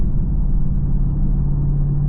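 Engine of a 2023 Dodge Charger Hellcat giving a steady, deep, low rumble that holds constant and close throughout, with no talking.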